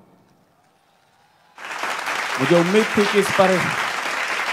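Someone speaks at a Hindi patriotic poetry recital, then a crowd of listeners bursts into loud, sustained applause, with his voice continuing over the clapping.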